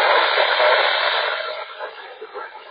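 NOAA weather band broadcast received on a handheld Iradio UV-98 or Radtel RT-880 radio, a steady, loud, hissy and filtered transmission that fades slightly toward the end.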